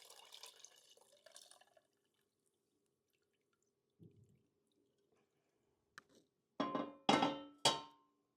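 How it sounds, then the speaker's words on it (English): Turkey stock pours from a pan through a strainer: a few faint early drips and trickles, then quiet, then three short louder splashing pours near the end. "I think the pan is probably light enough now that I can pour it in."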